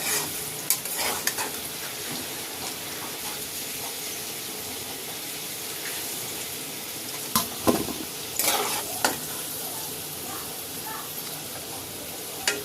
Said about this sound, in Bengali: দেখুন বন্ধুরা, আলুটা ভাজা হয়ে গেছে।